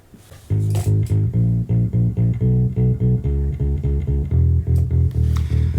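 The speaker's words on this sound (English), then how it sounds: "the bass guitar that we made in Contact, which is a fantastic plugin for live instruments" Scarby bass guitar sample played in Native Instruments Kontakt without processing, a steady run of plucked bass notes in an even rhythm, up close and alone.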